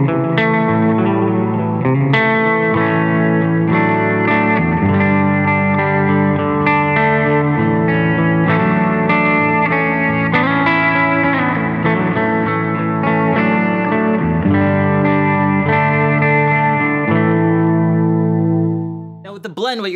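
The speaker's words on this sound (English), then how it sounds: "on this side, we have a spring reverb" A guitar played through the spring reverb side of an LCO Industries Ours & Hours lo-fi reverb pedal, sustained chords with a continuous wet wash and steady level, stopping abruptly near the end.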